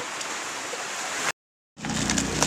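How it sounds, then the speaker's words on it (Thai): Steady rain pours down outdoors in a dense, loud hiss that cuts off briefly to silence and then resumes. "ฝนมันตก"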